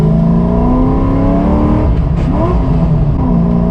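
C5 Corvette engine revving hard through a gear shift, a loud close drone whose pitch climbs, dips at the shift, then climbs again, with no talk.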